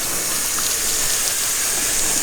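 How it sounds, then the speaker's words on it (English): A garden hose on a shower-style spray setting rinses an ATV air filter, giving a steady, loud, even hiss of water that runs unbroken throughout with no talking. "I'm just going to rinse it off with a garden hose."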